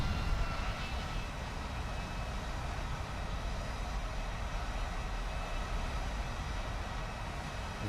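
Aircraft engine in the War Thunder air battle game, heard as a loud, steady droning roar with no gaps or talking, holding constant through the whole stretch.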